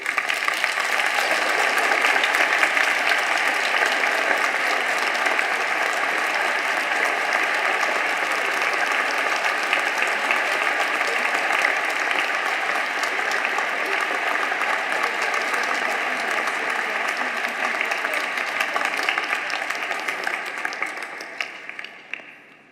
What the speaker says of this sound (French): Là, vous pouvez les applaudir bien fort.